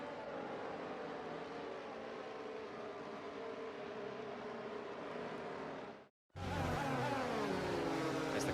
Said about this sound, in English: the formation lap has started